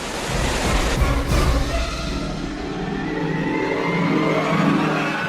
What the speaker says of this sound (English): It's a 40-foot waterfall.